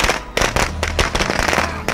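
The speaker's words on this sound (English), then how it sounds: "Oh, firework went flying off to the right." Fireworks bursting in the video game State of Decay 2, a rapid string of loud crackling pops and bangs, close and sharp, with no talking over them.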